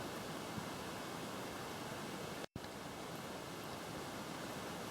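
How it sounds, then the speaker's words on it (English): Steady broadband rushing of water flowing in a gorge in the Blue Mountains, Australia, constant and fairly loud, with one brief cut to silence midway. "I can hear water."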